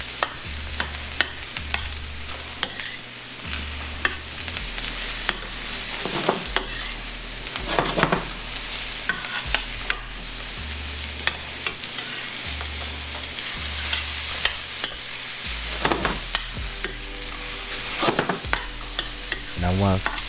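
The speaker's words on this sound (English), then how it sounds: "add in our mushrooms, y'all. Then we're gonna give that a little mixy mix." Mushrooms sizzle in a hot pan while a utensil stirs and scrapes through them. The frying hiss is steady and close, broken by irregular clacks and scraping sweeps of the stirring throughout, with no talking.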